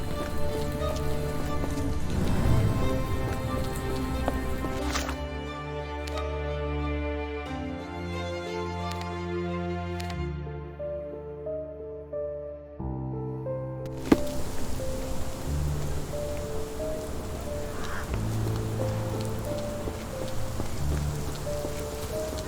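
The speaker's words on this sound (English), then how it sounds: "This dreary rain is making a miserable..." Rain falling in the video game Sherlock Holmes The Awakened. A soft, constant patter of rain sits beneath sustained tonal game music that swells and fades, with no voices.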